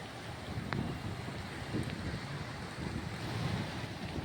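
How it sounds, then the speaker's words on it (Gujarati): Flooded Vanki river during monsoon near a bridge, a continuous roaring rush of fast water mixed with wind buffeting the microphone, steady and close throughout. "બ્રિજને તો અહીંયા તો બ્રિજને અડી ગયું છે પૂરેપૂરું વાંકી નદીનું પાણી"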